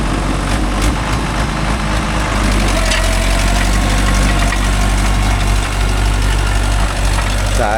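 A Mahindra 575 DI tractor engine idles and runs through its silencer, a loud, close, steady low-pitched diesel throb with constant vibration and chugging pulses throughout, heard on a farm.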